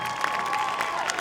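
An audience at a university band combo concert gives brief applause for a bass player: a short burst of steady clapping with light cheering, a held tone ringing under it.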